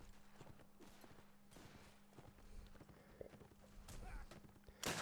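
Horse hooves clip-clop at an Anglo-Zulu war reenactment outdoors, moderately near, in an irregular stepping rhythm under steady background noise, with occasional sharp bangs like gunfire and a faint voice.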